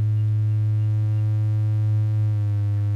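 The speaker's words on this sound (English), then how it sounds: "So this is almost a pure sine wave." Make Noise Ø-Coast synthesizer holding a near pure sine tone, a steady low sustained hum with only faint upper harmonics, continuous and loud with no talk.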